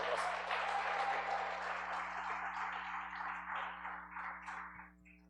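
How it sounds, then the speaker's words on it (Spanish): A church congregation at Sunday school claps together in a steady, dense round of applause that is loud at first and thins out over about five seconds, with a low hum underneath. "Denle un aplauso así"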